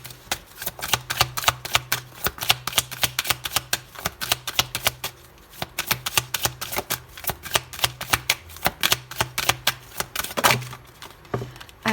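Oracle cards are shuffled by hand in a rapid, crisp flurry of close riffling taps that continues steadily for about twelve seconds with slight pauses and no talk.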